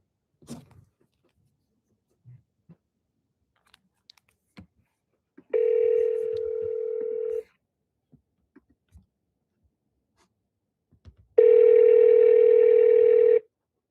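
Two steady telephone dial tones on a company phone line, each lasting about two seconds with a pause between, close and clear, while faint handling clicks and taps come in between.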